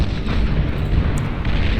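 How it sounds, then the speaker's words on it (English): Juno launchers fire in the strategy game Beyond All Reason, producing a dense, continuous roar of booming artillery-like blasts that fills the whole moment with no pauses and no voices. "Oh, there's the Juno launchers right there. And indeed, firing into the depths of the enemy team here."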